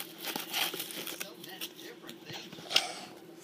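Packaging of a Luigi's Mansion Dark Moon game being torn and crinkled open by hand, a close series of irregular rustles, crackles and small rips, fairly quiet, with a sharper snap near the end.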